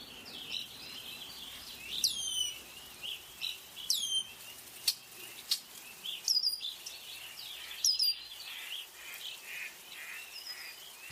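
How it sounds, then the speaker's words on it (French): Red-winged blackbird song at a Tadoussac bird observatory in Québec, a few short bright trilled phrases repeating every couple of seconds, fairly distant over a faint steady background hiss. "c'est le carouge à épaulettes qu'on va entendre chanter"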